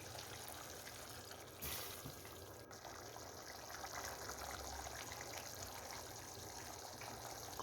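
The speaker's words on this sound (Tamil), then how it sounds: "இப்போ குழம்புக்கு தேவையான தண்ணி சேர்த்துக்கலாம்." Water pours steadily into a pot of simmering Chettinad vatha kuzhambu, a continuous gushing trickle with a brief louder splash near the start, close and moderately loud.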